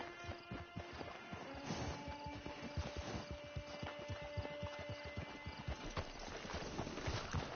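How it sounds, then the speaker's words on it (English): Horse hooves clop in a steady, dense rhythm through Red Dead game audio, with sharp knocks and a faint whinny buried in a busy mix of ambient sound. "Hitch your horse."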